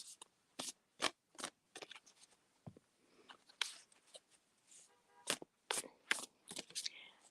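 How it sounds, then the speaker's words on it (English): Oracle cards are shuffled by hand in quick, uneven bursts of crisp riffling slaps and soft rustles, close and fairly quiet, with brief pauses in between. "I shuffle till a card flies out."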